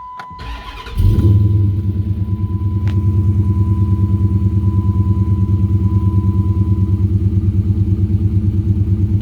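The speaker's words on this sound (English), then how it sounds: "Takes these Hemis a few minutes to idle down." A cold 2008 Dodge Charger R/T Hemi V8 cranks, fires and settles into a loud, close, high fast idle with a rhythmic, pulsing rumble.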